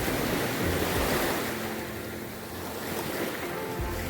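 Ocean surf washes steadily onto a beach at a campsite, a broad continuous roar of breaking waves with wind noise buffeting the microphone and no voices.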